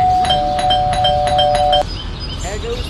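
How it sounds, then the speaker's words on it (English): Doorbell ringing in the Scary Teacher 3D mobile game: a repeating electronic chime pulses rapidly for nearly two seconds, then cuts off and leaves a noisy game background. "There goes that stupid bell again."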